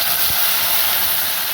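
A paste of chili, whole cumin, onion, ginger and garlic hits hot oil in a village kitchen, giving a loud, steady sizzling hiss up close with no talking.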